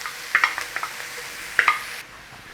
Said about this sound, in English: A nice little saute round in there, loosen them up, get rid of that rawness from the onion and garlic.